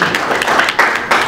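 An audience claps for a male artist at an event, uneven bursts of hand claps rising and falling over a second or so, loud and close.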